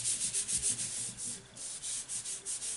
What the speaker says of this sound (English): I might just turn it over and give it a bit of a rub.